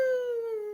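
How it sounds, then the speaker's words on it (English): A single short dog whine, a high, thin, steady tone lasting under a second, heard alone and close. "I heard a whine. I heard a gentle whine."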